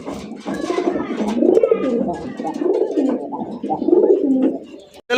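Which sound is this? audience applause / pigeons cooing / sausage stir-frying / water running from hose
pigeons cooing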